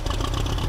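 An old tractor engine running after starting, a steady mid-low idle chug close by, loud and continuous without voices.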